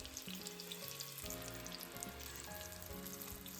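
Tofu deep-frying in oil, a steady dense sizzle with fine crackling throughout, close and even, while faint music plays underneath.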